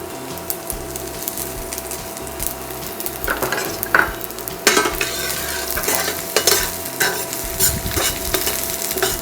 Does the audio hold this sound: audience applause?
no